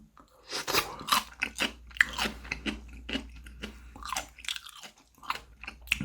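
Pickled radish is eaten alongside fried chicken, giving loud, close, wet crunching bites and chewing in quick irregular bursts with no talking.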